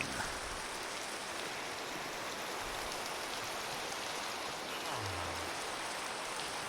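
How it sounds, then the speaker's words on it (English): Steady rain in the video game Minecraft hisses continuously throughout, an even wash of falling water with no talk over it. "The wonderful thing about rain in Minecraft is they did a fabulous job of making it actually feel wet."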